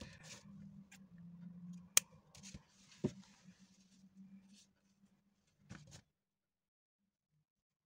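Scissors snip crochet yarn after the final stitch of a small crocheted bag, giving a couple of quiet, crisp clicks amid faint handling rustle, and then near silence.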